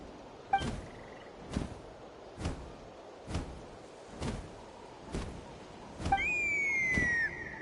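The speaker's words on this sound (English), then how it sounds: "That sounded like a whistle." A whistle sounds in a video game, a bright sustained tone that slides downward after a series of evenly spaced thumps, with a short faint tone earlier on.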